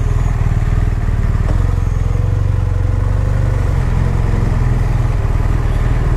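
BMW R1200R motorcycle on a test ride, its boxer engine rumbling loud and steady at close range throughout, with a continuous low throb and no break in the sound.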